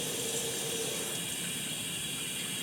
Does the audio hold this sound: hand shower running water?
yes